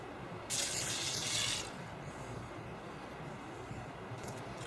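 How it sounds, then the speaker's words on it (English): Shellac finish pours into a bottle cap in a steady hissing stream for about a second over a constant background hum, then stops. "So I'm going to pour a cap full and see how that works."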